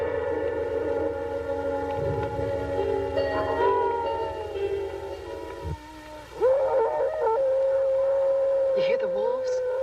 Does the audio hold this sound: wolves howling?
yes